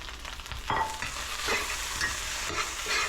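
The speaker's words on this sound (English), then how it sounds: "Okay, and now I'll add the fish." Fish is stirred into fried rice in a hot pan, giving a steady sizzle broken by scraping and tossing strokes of a utensil, close and fairly loud with no talk.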